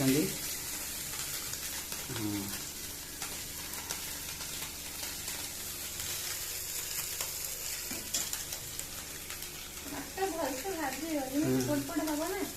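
Fish fries in a pan with a constant sizzling crackle while people talk over it, a voice rising near the end as the oil keeps spitting in the background.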